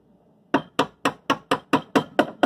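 A small hammer pounds car body sheet metal back into shape with nine sharp, evenly spaced metallic strikes, close and loud, with no talk.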